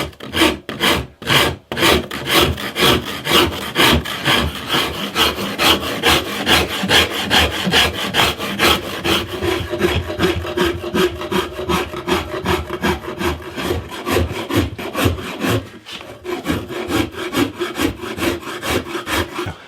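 A hand rasp scrapes back and forth over a wooden guitar neck being shaped by hand, in fast, steady, rhythmic strokes that stay loud and close with no talking throughout.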